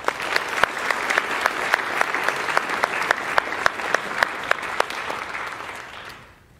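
Applause for a cheer team at a school athletics recognition ceremony: a crowd claps steadily and loudly for about six seconds with a few sharper claps standing out, then fades to quiet at the end.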